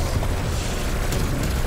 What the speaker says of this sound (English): I'm popping my ring of fire.